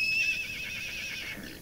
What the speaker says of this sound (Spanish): ahora relincha como un caballo e imita el sonido de su trote